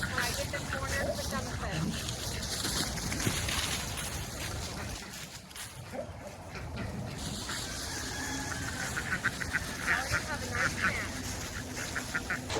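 Ducks honk and quack on a homestead, and the calls recur throughout over continuous outdoor background noise.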